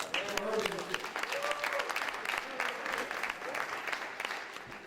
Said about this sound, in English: Can we give Congressman Corrine Brown a round of applause?